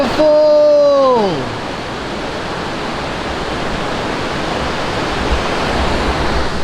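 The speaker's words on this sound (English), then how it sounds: "A waterfall!" Waterfall in Taroko Gorge on the Shakadang Trail, Taiwan, a steady broad rushing roar of falling water that fills the scene, following a brief voice at the start.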